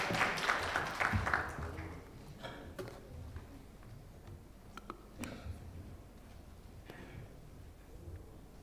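At a fintech forum, a brief burst of audience applause fills the first two seconds, moderately distant, then thins into scattered claps and faint taps over a quiet room.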